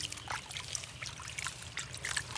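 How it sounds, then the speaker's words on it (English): Water trickles and splashes softly into a container for washing small toy trucks, a faint, steady dribbling with light bubbly detail close by. "First I have to put some water."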